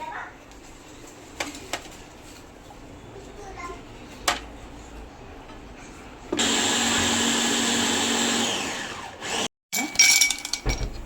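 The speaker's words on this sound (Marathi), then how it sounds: "हे मिक्सर पॉटमध्ये आंबे घातलेले आहे दूध घातलेलं आहे" An electric mixer blending mango and milk for a mango shake whirs loudly for a couple of seconds, then stops; quiet clatter and a voice come before and after.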